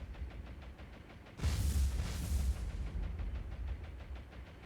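A battleship's magazine detonates in the War on the Sea naval combat game, a sudden loud, heavy blast that rolls into a long rumbling roar and then slowly fades under a steady low background.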